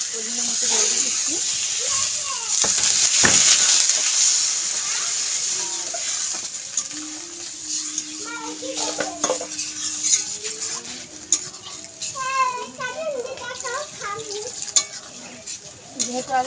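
Water pours into a pan of lightly fried potatoes for a fish curry, giving a loud hiss and sizzle at first that eases into bubbling with scattered clinks of a spoon against the pan.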